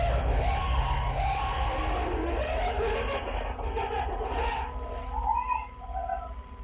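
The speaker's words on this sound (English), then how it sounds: "this video was taken just moments before they all started to scream." Several cleaners inside a hoarder house yell and shriek together, their overlapping voices rising in loud, uneven bursts at moderate distance.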